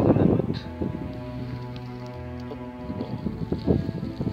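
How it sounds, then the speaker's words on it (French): Wind gusting across an open field, a steady rough rumble buffeting the microphone and swelling in stronger bursts near the start and end, with no voices. "il y a du vent, je mets dos au vent"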